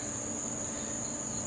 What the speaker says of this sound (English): The sound you hear now are crickets.